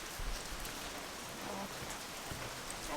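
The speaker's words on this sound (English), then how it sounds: "It's currently raining because, you know, it's Ishikawa and that's all it does." Rain falls steadily on an apartment balcony in Kanazawa, Ishikawa, as a soft, even hiss with scattered faint drops and no voices.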